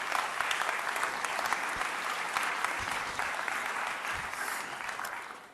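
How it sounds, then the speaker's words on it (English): Sustained audience applause for panelists at a forum on jobs in Africa, a dense wash of clapping from a crowd that holds steady and then begins to fade toward the end. "A round of applause for my panelists, please."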